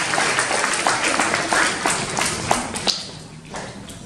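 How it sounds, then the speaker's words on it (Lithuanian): An audience at a school award ceremony in Rokiškis Juozas Tūbelis progymnasium gives a round of applause. The clapping is dense and moderately loud, then thins out toward the end. "Palydime mokytoją ir Adriją plojimai."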